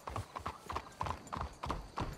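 Horse hooves clip-clop in a video game as riders near a hitching spot, a close, steady, even walking rhythm of about eight hoofbeats with no voices.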